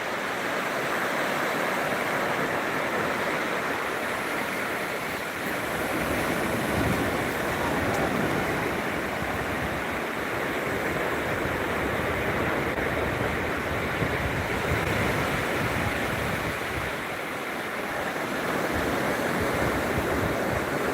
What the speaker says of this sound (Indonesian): Lihatlah keindahan pantai wisata Trenggalek ini